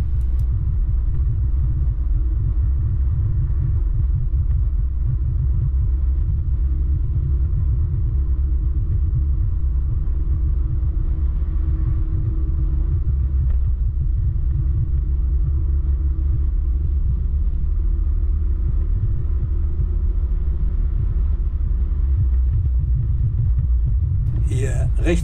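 A car drives along a road through Hessen, heard from inside as a steady loud low engine and road rumble throughout, with a voice talking over it.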